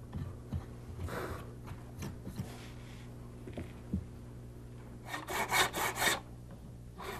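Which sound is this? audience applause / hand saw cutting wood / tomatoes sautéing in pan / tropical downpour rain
hand saw cutting wood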